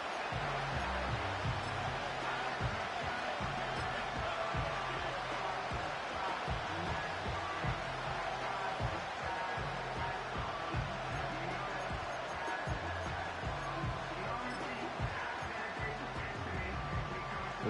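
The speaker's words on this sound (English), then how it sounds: "This crowd turning up the decibel level." A Madden 25 video game stadium crowd for a Ravens vs Bills football game roars steadily at a moderate level, with a commentator talking over it.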